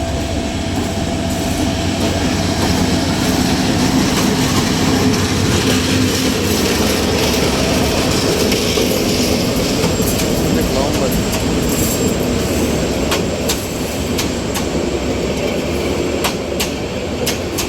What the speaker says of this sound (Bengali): অনেক স্লো আসে ট্রেন